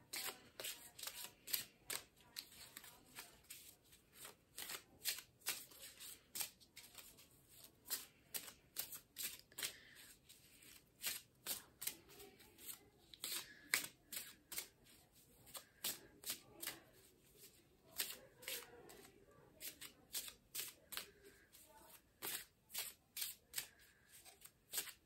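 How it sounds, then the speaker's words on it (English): Tarot cards being shuffled by hand, a rapid run of crisp riffling flicks and soft slaps repeating steadily for about twenty-five seconds, close and clear, with faint room tone beneath. "I think that's enough shuffling."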